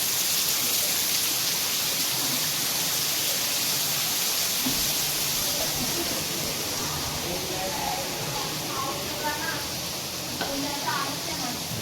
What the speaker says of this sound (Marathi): पाऊस आला बघा, पाऊस बघ केवढा मोठा आला